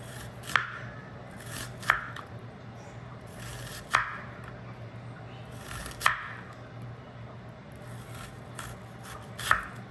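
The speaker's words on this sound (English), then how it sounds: "I'm just gonna slice up some red onions here" A knife slicing red onions on a cutting board, five or six sharp, distinct chops spaced a second or two apart over a quiet kitchen hum, close and clear with no talking.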